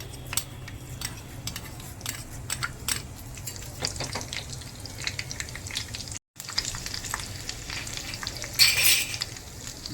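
Mustard seeds frying in hot cooking oil in a pan, a steady close sizzle with scattered sharp crackles and pops and occasional utensil clinks, no voices.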